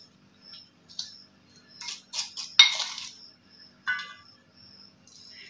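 Spoonfuls of salt go onto beef for hunter beef, with a metal spoon clinking and tapping in several short, separate bright hits spaced across a few quiet seconds.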